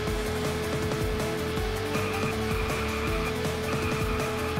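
Race car drifting in the Formula Retro Racing VR arcade game: a loud, continuous engine drone with rhythmic revving and a thin squealing tire tone mixed in, steady throughout, no talk.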